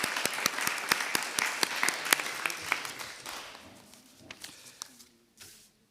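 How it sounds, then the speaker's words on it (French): Applause from the council chamber audience for a newly elected municipal councillor, loud sharp claps at first that thin out and fade over several seconds to scattered last claps. "Félicitations, vous pouvez l'applaudir."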